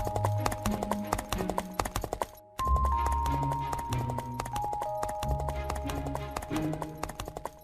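A horse walks along at a steady clip-clop, the hoofbeats rhythmic and close, laid over a busy musical backing and broken by a brief gap partway through.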